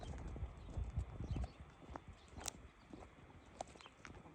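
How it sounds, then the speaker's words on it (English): Wild mustang horses move about nearby, their hooves making faint, irregular clip-clop thuds that are heavier at first, then sparse and scattered. "Just wild Mustangs chilling."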